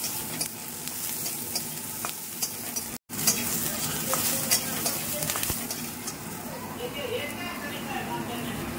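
Garlic frying in oil as a whole onion goes into the pan, with steady sizzling and occasional stirring scrapes heard up close while a person talks over it.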